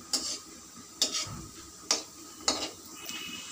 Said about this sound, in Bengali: এইভাবে উল্টে পাল্টে সব ভালো করে ভেজে নেব।